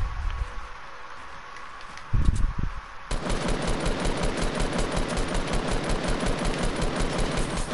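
Rapid automatic gunfire in a Fortnite match, a long fast burst of sharp shots after a few scattered thumps and quieter game sounds.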